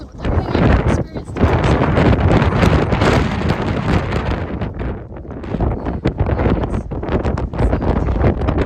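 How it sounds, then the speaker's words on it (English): Strong gusting wind roars across the exposed summit of Mt Washington on the Appalachian Trail, a loud, continuous buffeting that batters the microphone with surging, uneven blasts for the whole stretch. "Crazy windy."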